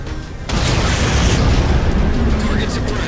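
Railgun shot and explosion in a Halo-style sci-fi shooter, a sudden loud blast that swells into a sustained rumbling roar with crackling debris, alongside voices.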